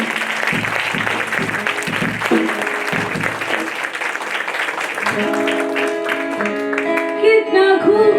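A church congregation applauds loudly with dense, continuous clapping while music swells in the background, building toward sustained tones near the end.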